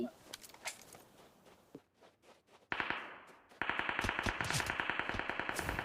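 Rapid automatic gunfire in the PUBG Mobile battle royale game, starting as scattered shots and then a loud, steady burst of fast repeated rounds in the second half, with players talking over it.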